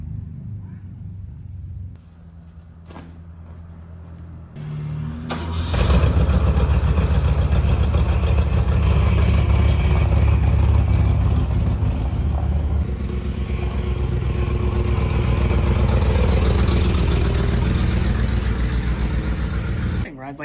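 The engine of a 1968 Mercury Colony Park station wagon cranks with a few starter bursts, then catches and settles into a loud, deep, rumbling idle that holds steady and close for the rest of the clip.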